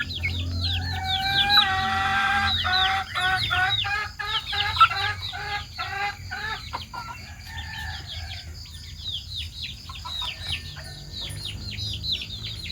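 Backyard chickens cluck and chirp steadily for the whole stretch, with a rooster-like crow early on and overlapping hen calls and small bird tweets over a low outdoor background hum.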